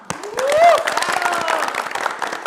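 Scattered clapping and crowd noise from an audience at a gathering run under a voice, with a brief whistle-like tone early on.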